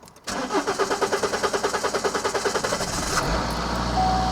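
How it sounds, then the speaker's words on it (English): A Vauxhall Insignia 2.0 CDTI diesel engine cranks with a rapid rhythmic starter chatter for about three seconds, then catches and settles into a loud, steady idle close to the microphone, with no talking. "we need to give it a little bit of a gas and keep the gas on for a little while just to let the fuel go through the system"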